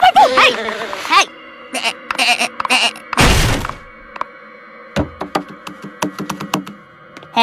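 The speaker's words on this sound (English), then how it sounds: "My mom's pig goat!" A cartoon pig-goat bleats in short, nasal bursts scattered between wooden thunks and knocks, with a louder rustling clatter near the middle, all close and dry.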